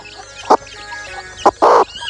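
Farm chickens cluck nearby in short, loud bursts: a quick call, a pause, then two more clucks in close succession, the last longest, over a quiet background.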